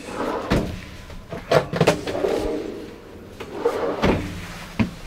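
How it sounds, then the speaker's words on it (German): Kitchen drawers in a 2021 Dethleffs T7051 EBL Pulse Classic 90 camper van on a Ducato base, slid open and shut several times with sliding rumbles and sharp knocks as they close, nearby and fairly loud. "Und hier die drei Schubladen."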